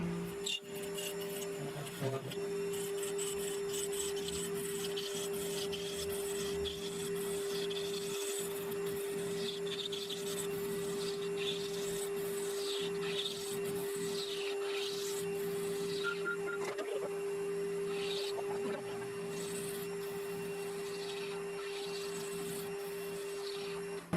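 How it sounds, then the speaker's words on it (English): A homemade lathe cutting a small taper point, with a steady whining motor tone under a continuous scraping, rasping cut that rises and falls as the tool moves, close and alone without speech. "what I want to do now is to machine a little taper on here"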